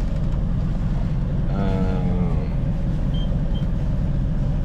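A sailboat's auxiliary engine drones low and steady throughout, a continuous loud rumble, with a faint brief whine rising over it partway through.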